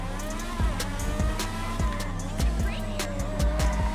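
A Progen PR4 race car driving in GTA Online, its engine giving a steady high harmonic whine with shifting pitch, regular thumps and tire noise, close and loud throughout.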